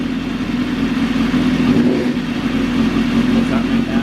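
A winter project motorcycle's warmed-up engine runs steadily at a close, loud, even idle with a constant droning hum and no misfiring, while someone talks over it.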